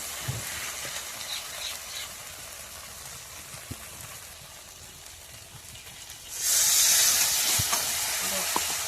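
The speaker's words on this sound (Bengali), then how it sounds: "মশলাটা দিয়ে ভালো করে নাড়াচাড়া করবে, ভালো করেই নাড়াচাড়া করবে। দেখবে আস্তে আস্তে তেল বেরিয়ে যাবে।" Spice paste for Bengali shukto sizzles and fries in a pan as it is stirred, a steady close crackle that suddenly grows louder and brighter near the end.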